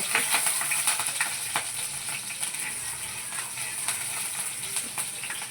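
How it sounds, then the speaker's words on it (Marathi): Green chilies frying in hot oil in a pan, cooked for sago khichdi: a steady, close sizzling hiss running continuously throughout. "असं तेल छान तापलं ना की मग तेलात अशी मिरची टाकायची मिरची छान फ्राय होऊ द्यायची"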